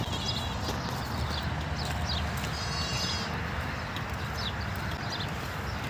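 Goats bleat faintly and horses clip-clop on a desert farm in Dubai. The sounds come from a distance over a steady, noisy background.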